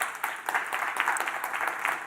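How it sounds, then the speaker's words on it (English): A conference crowd claps for the final speaker of a session at a tech keynote event, giving a full, continuous burst of applause that swells and stays strong, close and with no speech. "so I know you've held some applause back, so give it up, please, for Nick."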